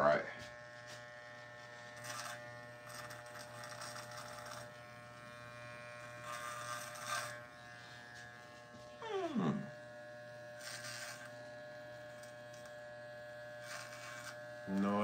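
A small electric shaver or razor hums steadily at close range throughout, with a constant buzzing tone and a few brief louder bursts and knocks.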